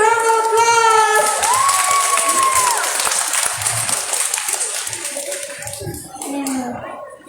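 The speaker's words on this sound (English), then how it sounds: "Let's give him a big round of applause." Applause and crowd noise rise for a child storyteller at a storytelling competition, loud at first and then thinning into scattered claps and murmur, with tonal sounds and voices mixed through it.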